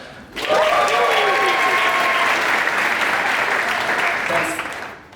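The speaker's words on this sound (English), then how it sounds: "So a big round of applause for the red." Audience at a science slam in Basel bursts into loud, sustained applause lasting about five seconds, with a few faint voices and whistles mixed into the clapping before it tapers off.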